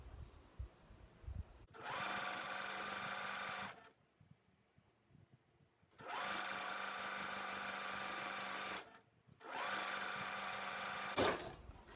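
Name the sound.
sewing machine stitching jogger pants cuff hem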